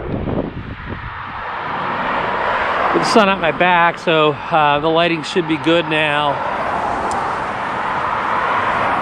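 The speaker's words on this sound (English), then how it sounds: "We got traffic going down the road here." Traffic rumbles along Evesham Avenue in a broad, steady wash under brisk wind, while someone talks close to the microphone through the middle of the stretch.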